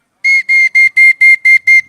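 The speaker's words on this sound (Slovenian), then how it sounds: "Ja, čisto najbolj navadna piščal" A simple folk whistle pipe sounds one steady high tone, blown in seven short, evenly spaced bursts, loud and clear against silence.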